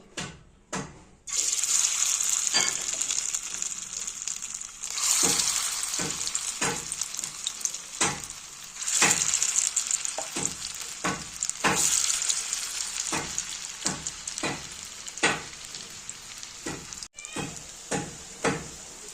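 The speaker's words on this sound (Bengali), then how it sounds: "সয়াবিনের মুঠোগুলোকে ভেজে তুলব।" Soybean dumplings (muitha) fry in hot oil with a continuous bright sizzle, broken by repeated sharp clinks and scrapes of a utensil against the pan at irregular intervals.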